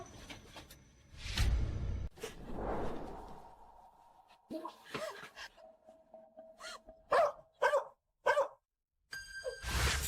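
A dog barks in several short bursts scattered between other noises and voices, some yelps close and sharp, others softer, with a ringing chime near the end.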